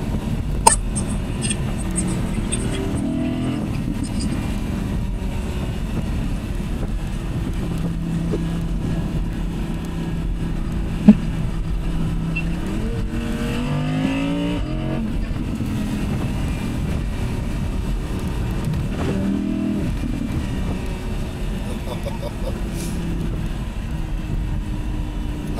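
Audi R8 V10 Spyder engine droning steadily on a test track, its pitch rising and falling through several sweeps as it revs, loud and continuous throughout with no talking.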